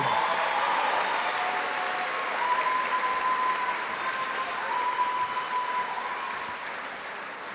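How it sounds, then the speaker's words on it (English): A graduation crowd at Pembroke High School applauds its class marshal in a long, even roar of clapping that holds steady and fades a little near the end, with a faint sustained tone running beneath. "How about a round of applause for our class marshal, Olivia Skiba?"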